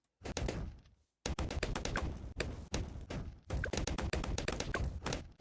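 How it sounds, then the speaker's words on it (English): Fireworks from a hero's ability in the tower defense game Bloons TD 6 burst as dense, rapid crackling pops in quick volleys with a brief pause, fairly faint and without talk. "More fireworks!"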